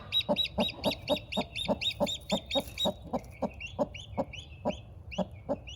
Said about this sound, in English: it's just hatched its first little chick out this morning